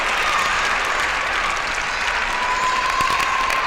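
Audience applause at an international table tennis match between Achanta Sharath Kamal and Ryu Seung-min, a steady, dense wash of clapping from the crowd that holds evenly throughout without pause.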